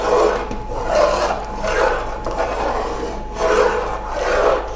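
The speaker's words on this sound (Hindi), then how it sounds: "तो फिर हम हिलाते हैं ताकि मसाला भी हल हो जाए और नीचे भी ना लगे।" Spoon scraping and stirring thick chicken haleem in a pot over low heat, rhythmic rasping strokes repeating in slow waves, close and clear with no speech.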